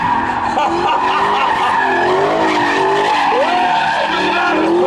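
A Dodge Demon does a burnout at a British motor show: loud, continuous tire squeal with wavering screeching tones over a roaring engine, close and unbroken for the whole stretch.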